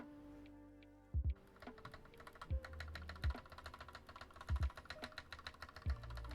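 Keycaps are pressed onto a mechanical keyboard, making scattered sharp plastic clicks and snaps up close, with a few louder thuds among lighter taps.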